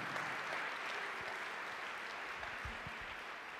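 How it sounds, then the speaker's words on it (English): A church congregation applauds a doctor and student minister, a faint, steady wash of clapping heard from a distance that holds evenly throughout. "Brother Wesley Muhammad, a well-deserved round of applause."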